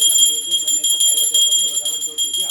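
A bell rings continuously with a bright, shimmering metallic tone, steady throughout, over a soft low hum.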